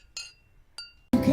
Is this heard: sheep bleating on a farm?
no